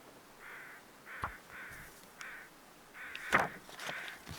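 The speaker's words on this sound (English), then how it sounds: "Oh, you hear those crows?" Crows caw in the survival game The Long Dark, several harsh calls in a loose sequence, fairly distant and faint over a quiet windy background, with a brief knock or thud mixed in.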